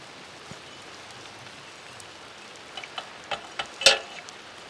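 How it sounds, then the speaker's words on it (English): A few sharp bursts of roof cleaning solution spray hiss out in quick succession near the end, the last one loudest, over a soft steady background wash like light rain. "I'll continue to spray right here where I last was"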